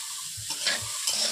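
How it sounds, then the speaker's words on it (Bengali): Gima greens with potatoes are stirred in a hot frying pan, a soft continuous sizzle with a few light scraping strokes, close and steady for a brief moment. "এরপর নেড়ে নিচ্ছি আলুর সঙ্গে, একই সঙ্গে আমি মিশিয়ে দিচ্ছি।"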